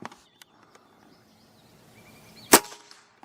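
A .25 caliber rifle fires at a target outdoors, one sharp close crack late in the clip, with faint clicks and distant birdsong around it and no speech.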